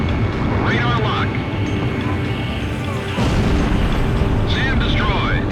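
A SAM site blows up in the Ace Combat Zero video game, giving a loud continuous rumbling boom layered with jet aircraft roar, while voices talk over the radio.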